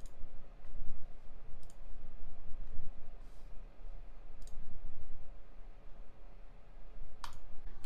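Computer mouse clicking on a browser tab, sharp isolated clicks scattered at irregular intervals over a steady room hiss, close and fairly quiet, with no talking.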